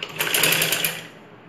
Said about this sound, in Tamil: அந்த முனையிலேருந்து அப்படியே இணைச்சிடணும் ஒரு நெட்டு தையல்